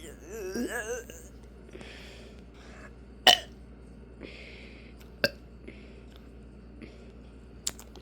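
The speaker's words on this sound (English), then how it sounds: "today we're going to be burping." A person lets out several separate burps spaced a second or two apart over quiet room tone, with a longer, wavering vocal burp near the start. Each one is short and close.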